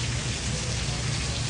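Heavy rain pouring down at a gas station, a dense, steady hiss of drops drumming on surfaces, loud and close with no break.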